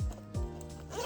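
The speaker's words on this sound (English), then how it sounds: "Time to zip it up" A backpack zipper being pulled closed while packing for a flight, two quick rasping zips close by with a soft pause between them.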